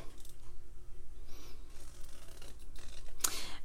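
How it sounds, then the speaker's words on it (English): Large scissors fussy cut paper along straight lines, producing short crisp snips and rustles close to the mic, with a sharper cut near the end and no talking. "We're going to fussy cut. Actually, I'm going to get my bigger scissors here."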